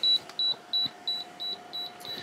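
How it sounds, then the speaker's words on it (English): Repeated high-pitched electronic beeps from a Zero Breeze portable power station not on a flat surface, about seven short evenly spaced tones over a low steady hum, fairly quiet and close. "it's beeping at me because it's not on flat surface"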